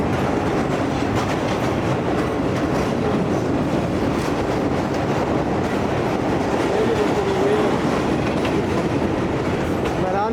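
The Tezgam passenger train from Karachi to Khanpur rolls along, heard from inside an economy-class carriage. A constant loud rumble and clatter of wheels on track continues without a break.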